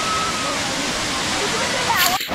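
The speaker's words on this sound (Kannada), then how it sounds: "ಗಂಗೆ ಧುಮುಕ್ತಾ ಇರುವ ತರಹ ಈ ಫಾಲ್ಸ್ ಆದರೆ ಇವಾಗ ಬರ್ತಾ ಇದೆ" A waterfall near Manchenahalli pours down steadily, a continuous broadband rush of falling water close by, with a brief disturbance near the end.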